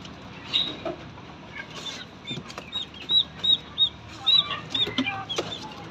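Young chickens and a young turkey chirp and cluck in short, high bursts, several close together, over a soft rustling background.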